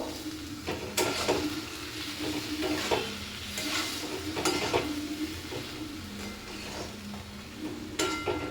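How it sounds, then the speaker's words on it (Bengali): A spoon stirs fried paneer through a spicy masala in a pan, scraping with repeated clinks against the metal over a steady low sizzle, close and moderately loud with no talk. "ভাজা পনিরগুলোকে এর মধ্যে ফেলে দেব। তারপর এটাকে ভালো করে একটু নাড়াচাড়া করে নেব।"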